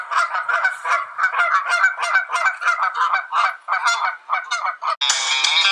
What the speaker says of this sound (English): Sounds like some Canada geese overhead.